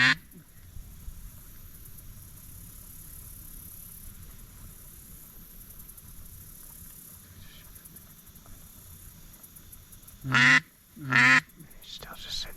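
A teal duck on the water gives two loud, close quacks near the end after a long stretch of quiet outdoor ambience, with hunters talking softly during the hunt.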